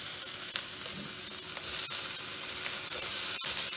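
Sausages frying and browning in a pan give off a steady, close sizzle with soft crackles and the occasional scrape of stirring, with no talking.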